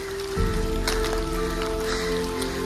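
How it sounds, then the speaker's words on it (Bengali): Continuous rain falls on a forest along the Poon Hill trek in Nepal, a steady close patter with scattered louder drips over a constant wash of sound, no voices. "বৃষ্টি এখন পর্যন্ত লাগাতার পড়ছেই তো পড়ছেই, কোনো থামার নামগন্ধ নেই।"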